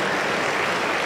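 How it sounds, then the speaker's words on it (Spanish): A congregation in a Pentecostal church in Huancayo claps in a dense, steady burst of applause, close and full, with no voices over it. "Aplauso contento para el Señor Jesús"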